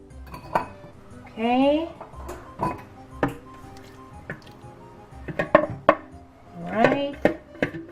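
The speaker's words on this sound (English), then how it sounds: "we are going to add them to our dry ingredient mixture here in our bowl" Wet ingredients go into a bowl of dry mixture for chocolate chip scones, with scattered clinks and knocks of a utensil against the bowl and brief scraping, while a person speaks briefly.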